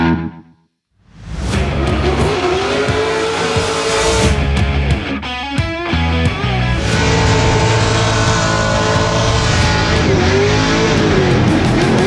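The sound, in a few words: race car doing a run on track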